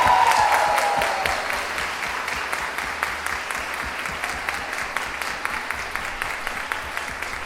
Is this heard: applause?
yes